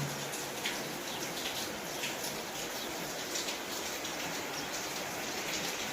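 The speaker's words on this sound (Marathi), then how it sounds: "टप टप टप टप पाऊस कसा पडतोय" Steady rain falls outside a rural home during a day-long downpour, a constant even hiss of drops with faint taps, moderate and unbroken, no voices.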